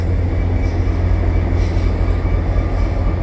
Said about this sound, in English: So this is the Vermont rail system.